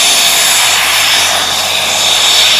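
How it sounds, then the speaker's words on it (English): A helicopter idles on the ground just before lifting off, its engine and rotor giving a loud, continuous high-pitched whine and roar from close by with no voices. "Now, it's really difficult to actually fly a helicopter."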